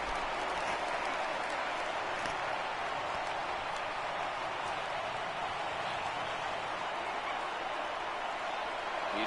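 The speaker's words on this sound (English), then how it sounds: "Crowd gets up for the 3-2." Steady, dense roar of a baseball stadium crowd in a PS4 baseball game, rising as fans get on their feet for a full 3-2 count; a continuous wash of cheering and scattered clapping, loud and even throughout with no voices standing out.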